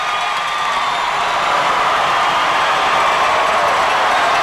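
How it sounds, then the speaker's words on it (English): A packed basketball arena crowd roars steadily as the Warriors close out a tournament win, a loud, unbroken wall of cheering and noise that builds slightly and never lets up. "Listen to this crowd."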